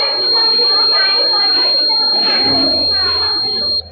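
A steady high-pitched electronic tone sounds continuously from a timer buzzer system at a school science fair in Bhubaneswar. Chattering crowd and children's voices surround it, and the tone cuts off at the end.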